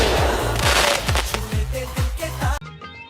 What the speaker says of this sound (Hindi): जलाओ पटाखे।